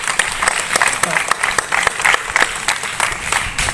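Audience applause in a lecture hall, steady close clapping with distinct individual claps audible throughout the short stretch.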